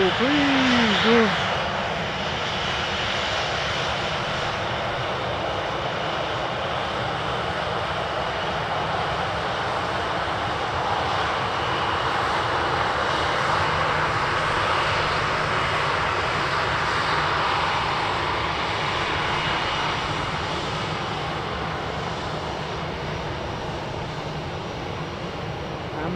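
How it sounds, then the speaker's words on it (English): WestJet airliner jet engines roar on departure during early-morning flights, a loud sustained rumble that holds steady across the whole stretch, with a voice talking over it. "Just five back-to-back WestJet departures"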